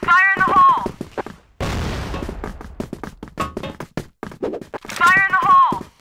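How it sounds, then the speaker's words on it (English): A flash bomb grenade goes off in a video game with a single sharp burst of crackling noise, surrounded by loud, excited game voices and speech before and after. "Flash bomb. Fire in the hole."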